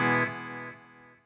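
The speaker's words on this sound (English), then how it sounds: "Let's turn this delay on." An electric guitar runs through the dynamic delay effect of a Headrush processor: one distorted chord rings out loud and then decays smoothly as the repeats trail off, with no talking.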